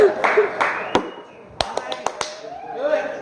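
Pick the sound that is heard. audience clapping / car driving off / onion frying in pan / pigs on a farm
audience clapping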